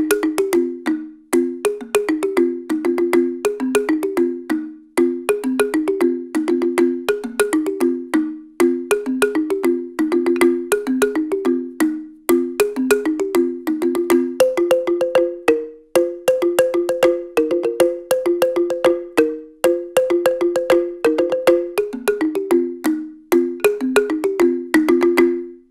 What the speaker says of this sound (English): using the built-in mics on a Zoom H4N, which is an affordable stereo recorder.